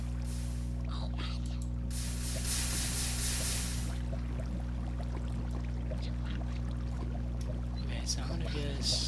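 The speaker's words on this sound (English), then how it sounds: "Yeah, I knew I was hearing water somewhere." Flowing water in a Minecraft cave: a continuous steady hum with two louder washing bursts near the start, heard without talking.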